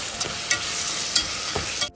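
Prawns sizzle and fry in masala in a pan while a spoon stirs and scrapes through them, with a few louder clinks, close up and without any talk.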